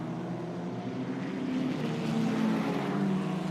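A Formula Regional race car accelerating on the Paul Ricard circuit, its engine making a continuous loud drone with a rising tone.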